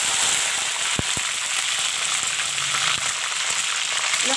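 Cumin seeds, dry red chilies and curry leaves frying in hot oil for a chicken curry, giving a steady close sizzle with a few sharp pops and crackles, no voices.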